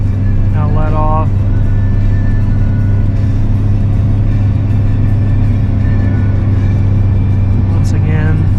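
A 24-year-old 8.1-litre gas V8 truck engine drones steadily while towing 18,000 pounds, a loud constant low rumble held under about 4,000 RPM, with a faint chime partway through.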